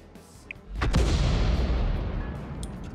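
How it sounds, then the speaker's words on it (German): Artillery in World of Tanks fires a single heavy, booming shot that rolls out into a long, decaying rumble, preceded by a faint click and light background noise. "Die Arti zielt hier durch die Häuserreihe durch und trifft jeden Schuss."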